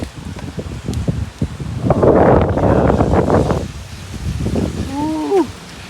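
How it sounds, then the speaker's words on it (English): Hurricane Helene storm outdoors: steady wind roar and rain noise buffeting the microphone, swelling louder midway, with a person briefly speaking near the end. "Oh, and it's raining."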